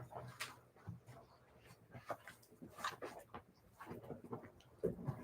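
A dog named Badger gives soft, scattered whimpers and small whines indoors, faint and close, mixed with quiet shuffling and light movement noises.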